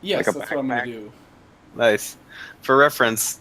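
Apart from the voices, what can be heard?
No everyday noises stand out.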